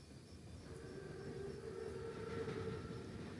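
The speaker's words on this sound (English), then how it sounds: "Train's right on time." A German armored train, a Panzerzug, approaches in Call of Duty WWII, heard as a steady, faint rumbling rail roar with a low hum that slowly builds, with no voices over it.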